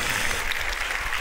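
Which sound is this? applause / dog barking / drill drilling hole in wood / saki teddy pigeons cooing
applause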